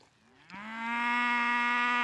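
A single cow lets out one long, low moo that swells from a quiet start into a loud, steady call close by, with no other sound around it.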